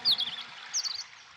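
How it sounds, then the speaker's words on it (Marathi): Two quick bursts of high, bright bird chirps, a short twittering pair, heard faintly against a quiet background. "पक्ष्यांचा चिवचिवाट"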